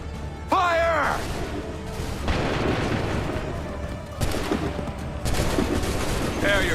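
Repeated musket volleys crack out in the Assassin's Creed 3 game, broad bursts of gunfire spaced a second or two apart under constant battle din, with shouted commands in between.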